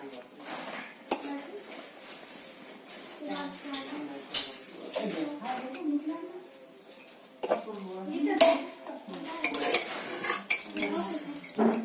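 Metal spoon and pot clatter while fried onions and rice are layered into a pot for chicken biryani, scattered scrapes and clinks mixed with a voice talking throughout.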